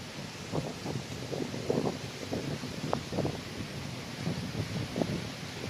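Steady wind buffeting the microphone outdoors on Alabat Island, Quezon, with gusty rumbling and rustle throughout and no voices.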